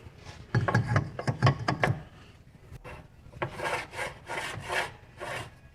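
A rhythmic scraping rub from a brake dragging on a turning wheel of a 1972 VW Karmann Ghia with newly installed calipers, a quick series of close rasping strokes followed by slower repeated sweeps.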